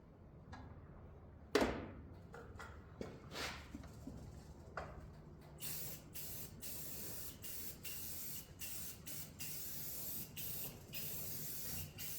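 Rust-Oleum High Performance paint hisses from an aerosol can onto a steel frame plate of an F100 truck frame, in a run of short spray bursts and then longer steady blasts, close and fairly loud, with a sharp knock near the start.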